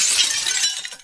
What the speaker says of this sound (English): Don't break glass.